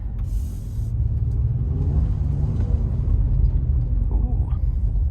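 A 2022 Honda Passport Trailsport in snow mode drives through snow, giving a steady low road rumble with tyre and body noise; brief hiss and light thumps ride on top, and no one talks.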